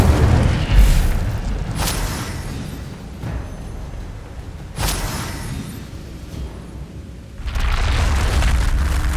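A fire spell going off in the wizarding game Hogwarts Legacy, with several deep booming bursts spread across the clip and a sustained roaring rumble near the end, with no talk over it.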